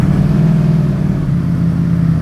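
Loud, close engine of a 2024 Ducati Streetfighter V4 in first gear with a full titanium Akrapovic exhaust, a deep, steady growl that dips slightly midway and then holds firm.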